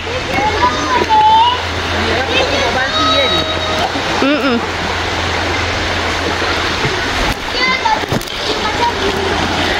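A river near a glamping site in Janda Baik flows with a steady broadband rush and splashing that continues throughout, while people talk and call out over it.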